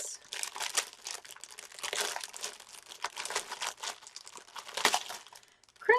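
Plastic packaging holding diamond painting beads crinkles and rustles close up, with continuous uneven crackling handled at a moderate level and no talk.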